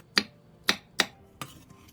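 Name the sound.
knife cutting Korean cucumber peppers into bite-size pieces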